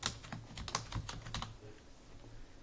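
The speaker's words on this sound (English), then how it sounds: "I will type here as a relative" Rapid typing on a computer keyboard while entering a column label in an Excel spreadsheet, a steady run of close, clicky keystrokes with no talking.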